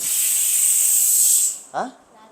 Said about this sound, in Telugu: ఆడ బుస్సు బుస్సు అని సౌండ్ వస్తా ఉంటే